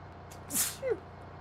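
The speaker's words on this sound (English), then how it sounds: "I'm having some stray sneezes every now and then" A single person's sneeze, a quick sharp burst with a short breathy tail, close and fairly loud against a quiet room.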